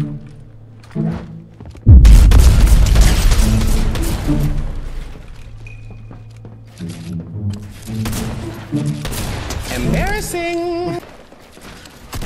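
Fortnite match with a loud burst of rapid gunfire and booming explosions, followed by scattered shots and impacts, while a player talks over the action.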